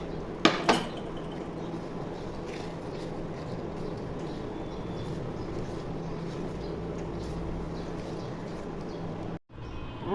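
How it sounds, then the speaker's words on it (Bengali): Raw mango barfi mixture with cornflour is stirred slowly over low heat in a pan, with a couple of sharp metal clanks at the start and then steady soft scraping throughout, with no voices. "এখন আমি কর্নফ্লাওয়ার ঢেলে দিয়ে আস্তে আস্তে অল্প আঁচে নেড়ে নিব।"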